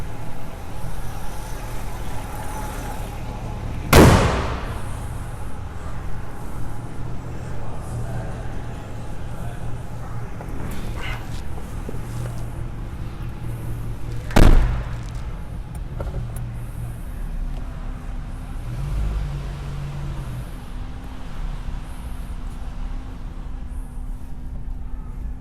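The engine of a 1965 Ford Mustang runs with a steady, loud broadband rumble, broken by two sharp thumps like a hood or door slamming shut.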